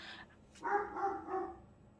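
Colin the dog gives a few quick barks, a short yip followed by three muffled woofs, moderately loud indoors.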